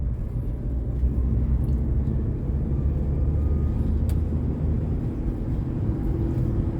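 A car engine hums and rumbles steadily while accelerating from 40 to 50 km/h, heard from inside the cabin as a constant low drone with no voices.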